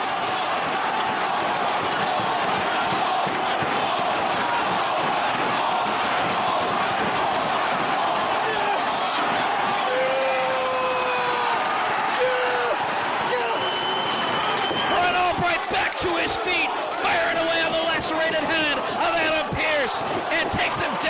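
A wrestling crowd in a Manhattan arena roars loudly and continuously during an NWA World Championship match, with sharp cheers, whistles and shouts swelling near the end, under excited commentary.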